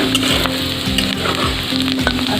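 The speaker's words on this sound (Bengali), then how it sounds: "এই যে নুন হলুদ মাখানো মাশরুমগুলো নিকড়ে নিয়ে কড়াইয়ে দিয়ে দিয়েছি। এবার ভালো করে লাল করে ভেজে নেব।" Turmeric- and salt-coated mushrooms fry in hot oil in a wok, giving a loud, close, continuous sizzle with faint rhythmic scraping as they are stirred. No one talks.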